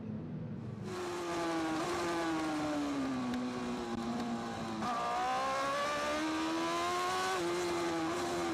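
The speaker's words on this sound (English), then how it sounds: "Watching bikes coming into pit lane" Racing motorcycles, including superbikes such as the Yamaha R1, pour into pit lane during a Macau Grand Prix qualifying session, loud sustained engine howl with shifting, overlapping pitches as several bikes pass close by.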